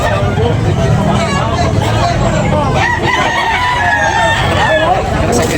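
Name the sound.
chickens and roosters crowing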